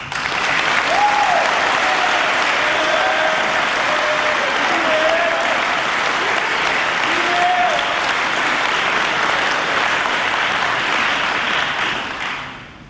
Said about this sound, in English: I would ask that you give him a round of applause.